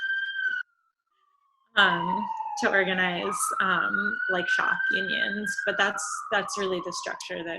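A police siren passes outside during a talk about a museum workers' union, its long wailing tone rising and falling steadily beneath someone speaking close to the microphone.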